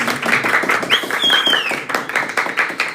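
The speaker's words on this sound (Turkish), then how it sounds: "Alkış alkış." A small group at a çiğ köfte making contest claps quickly and continuously, close and lively, with a faint whistle or squeak rising over the applause.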